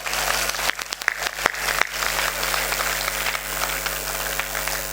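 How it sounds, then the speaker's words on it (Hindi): An audience at a festival stage show claps with hands raised, dense continuous applause with a few sharp louder claps early on, sustained throughout. "ये एक बार दोनों हाथ ऊपर उठा के तालियां बजाओ।"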